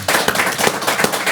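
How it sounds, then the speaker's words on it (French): Studio audience applauding at the close of a Caen city television programme, a dense, loud burst of clapping running steadily through the whole moment without speech. "Applaudissements du public"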